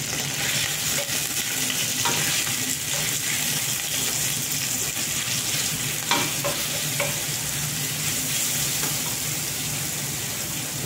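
Crumbled skinned sausage fries in a hot pan with a thread of oil for farofa, a constant crackling sizzle with intermittent scraping stirs, close and steady throughout.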